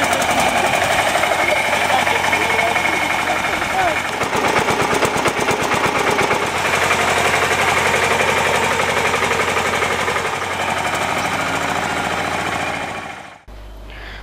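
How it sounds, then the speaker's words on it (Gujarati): A homemade mini tractor's engine runs steadily for the whole stretch, a loud, close, rapid knocking chug that holds an even rhythm before cutting out abruptly near the end. "તો જુઓ આ ચાલ્યું નટવરભાઈનું ટ્રેક્ટર"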